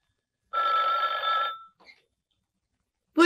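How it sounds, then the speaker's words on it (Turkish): An old landline telephone bell rings once in a single loud, clear burst lasting about a second, followed by a brief faint trailing ring, then quiet before a voice begins. "Telefona bakar mısın Zafer?"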